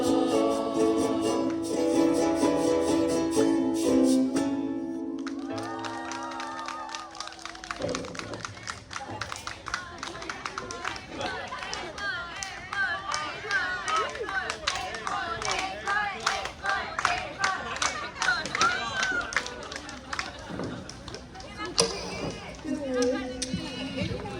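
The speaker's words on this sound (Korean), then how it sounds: "우리와 같은 박수로 저희 앵콜을 또 신청해 주셨기에" Festival audience in Haenam applauding to call for an encore at a Hawaiian music festival, broad crowd clapping that swells after a musical passage ends and continues steadily with chatter mixed in.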